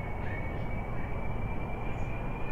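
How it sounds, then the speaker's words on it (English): Aircraft engines roar steadily on a runway in the video game Kerbal Space Program. The broad, unbroken rumble and hiss holds at an even loudness throughout, with no break. "There we go. Engines are lighting."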